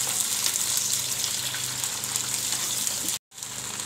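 Okra (bhindi) fries in hot oil with a loud, steady bubbling sizzle that cuts out briefly near the end before resuming.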